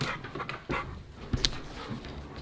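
A German Shepherd pants in quick, uneven breaths close by, with a whimper-like sound and a sharp click in the middle, against soft wind noise at a house.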